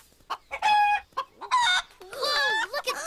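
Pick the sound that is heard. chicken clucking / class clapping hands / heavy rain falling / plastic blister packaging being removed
chicken clucking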